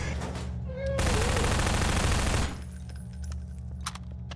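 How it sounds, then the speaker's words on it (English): Half-Life 2 SMG gunfire: one loud burst of rapid automatic shots lasting about a second and a half, with quieter game ambience before and after and a few faint, scattered pops near the end. "I actually do really like the sound effect for the SMG."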